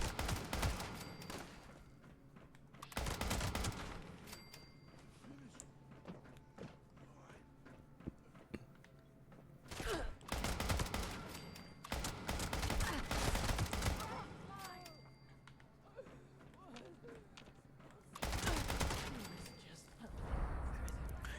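AK rifle fire in a video game comes in repeated rapid bursts separated by quieter stretches, with fainter footsteps and background game noise between the volleys.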